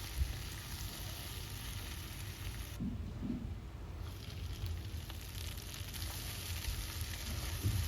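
Taro, potato, pumpkin and pointed gourd frying in a pan with oil, a steady close sizzle running without a break, with a brief stir partway through.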